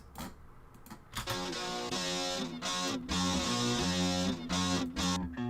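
Amplitude rhythm-game song played in practice mode at 65% speed and pitch-shifted upward into a Nightcore-like sound, with dense electronic music and steady beats running loud and continuous throughout.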